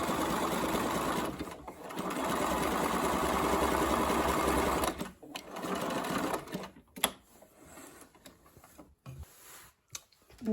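A sewing machine runs in a long close burst of zigzag stitching along skirt pocket edges, then gives way to shorter stop-start runs and handling clicks.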